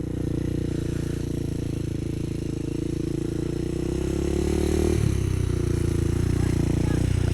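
A Honda 400EX ATV engine runs close by as it is ridden, a steady motor drone that rises in pitch toward the end as the throttle opens, with a clunk near the shift.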